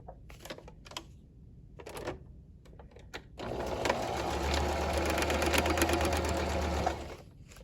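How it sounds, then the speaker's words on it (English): A sewing machine makes short stop-start bursts, then runs a steady, loud mechanical stitching rattle for several seconds while sewing a quarter-inch straight stitch on a fabric bag. "for this step, I'm gonna do a 1/4 inch straight stitch, and then I'll do that zigzag"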